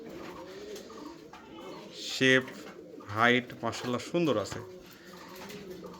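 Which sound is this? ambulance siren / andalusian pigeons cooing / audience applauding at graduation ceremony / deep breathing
andalusian pigeons cooing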